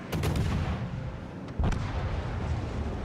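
Naval gunfire from a ship in World of Warships: Legends lands the killing blow: booming artillery bursts near the start, then a heavier blast about halfway through, over a constant rumbling battle din.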